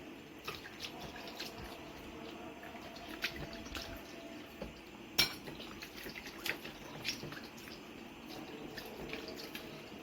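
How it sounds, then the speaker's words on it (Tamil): Plates, pots and frying pans being scrubbed and rinsed in a sink, with running tap water, dripping and repeated light clinks and clatters of dishware at close range. "நம்மளால முடிஞ்ச வரைக்கும் பாத்திரத்தை கழுவி எடுத்துடலாம்"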